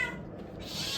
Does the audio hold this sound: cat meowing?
yes